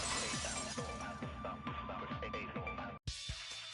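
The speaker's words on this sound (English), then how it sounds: "the girls heard the sound of the window shattering" A glass-shattering sound effect from the Danganronpa video game bursts out as a bright crash near the end, after a stretch of rhythmic game music and a brief silence.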